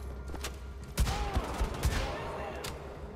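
Gunfire in Wolfenstein: The Old Blood: a cluster of rapid, punchy shots around the middle over a busy game background, with fainter reports before and after.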